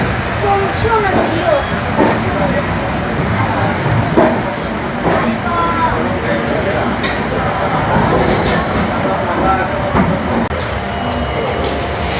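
The Sealdah to Puri Duronto Express runs near Kharagpur Junction, heard from inside the train as a loud, constant rumble with repeated wheel clacks and occasional metallic squeals.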